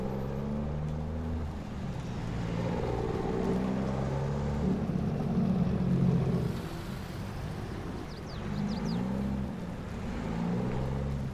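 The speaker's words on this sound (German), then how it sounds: "Ich feiere den Motorsound von dem LKW." Truck engine in Farming Simulator 22 runs as a steady low drone with rising and easing revs, close and fairly loud, with no talk over it.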